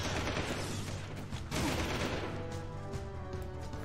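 Continuous dense gunfire and crashing impacts from Jak II: Renegade on PS3 roar without a break, loud and close, with a steady low rumble underneath.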